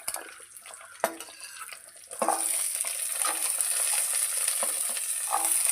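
Vadagam seasoning and small onions frying in gingelly and groundnut oil for a Tamil fish curry, a steady close sizzle that swells after a couple of seconds, with faint stirring clicks and no talk.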